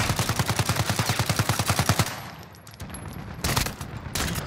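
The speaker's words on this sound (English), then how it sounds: "Fire. Shoot him down." Rapid automatic gunfire in a shooter video game rattles off as a fast burst of loud, evenly spaced shots for about two seconds, followed by a few sharp isolated shots and brief hissing effects.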